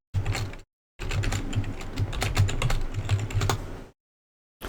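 Rapid clicking keystrokes on a computer keyboard in a brief burst, then a longer steady run of close typing that stops abruptly, with no voices.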